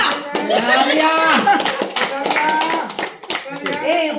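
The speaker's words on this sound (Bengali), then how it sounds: "তালিয়া তালিয়া" Hands clap in a crowd at a birthday celebration during a batch reunion gathering, with a dense stream of claps running beneath voices that talk and sing together for the whole stretch.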